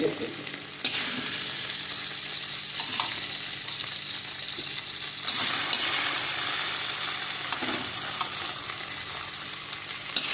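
Okra fries in a pan with a steady, close hiss of sizzling oil, joined every few seconds by louder bursts of stirring and scraping.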